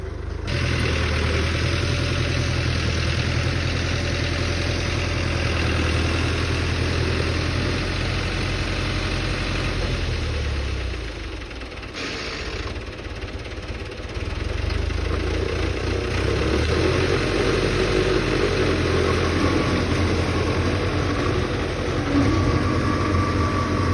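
A tractor engine idles nearby with a steady low rumble that dips briefly, then returns at full strength.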